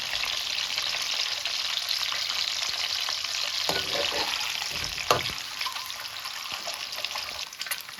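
Eggs frying lightly in oil over a low flame, a steady soft sizzle holding evenly throughout with a couple of brief clinks of a utensil near the middle.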